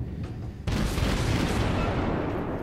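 Heavy naval gunfire from World of Warships battleships near an Arkansas beta battleship, one sudden loud boom followed by a sustained dense rumble of continuing fire.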